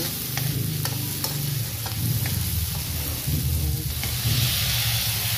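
Meat drops into a hot pan for a Filipino mung bean stew, sizzling and crackling steadily with scraping stirring strokes, close and fairly loud throughout.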